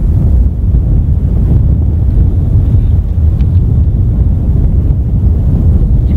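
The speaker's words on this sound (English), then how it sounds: "It's windy today." Strong, steady wind at the Grand Canyon buffeting the microphone, a constant low roar with gusty rumble throughout and no voices.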